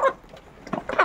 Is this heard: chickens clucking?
yes